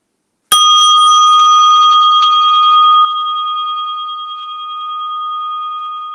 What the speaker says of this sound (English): just rest your attention lovingly on the sound of this bell.